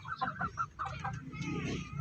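Pullet chickens clucking in short, rapid bursts, fairly close but quiet, followed by softer background murmuring and shuffling.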